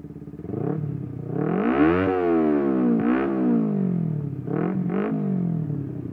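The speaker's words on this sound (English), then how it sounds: "And let me give it a couple revs for you." A 2009 Kawasaki Ninja 250R motorcycle engine is revved up and down several times, close and loud. Each rev climbs to a whining peak and then falls back, with short blips between, and no one speaks.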